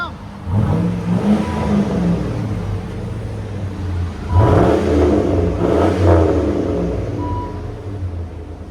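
A GMC Sierra pickup's deep engine revs up and holds, rising in two strong surges that swell and fade, loud and close with a steady rumble beneath, through a Flowmaster-style exhaust with a slight pop.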